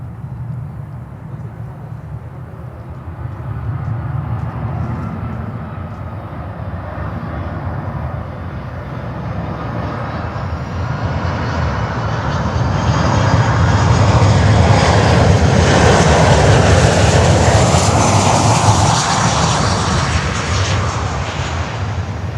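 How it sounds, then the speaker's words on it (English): American Airlines jet airliner arriving at Miami airport from Chicago O'Hare: a loud, continuous jet engine roar that builds steadily and swells to a peak near the end, with no talking. "our next inbound is American Airlines from Chicago O'Hare"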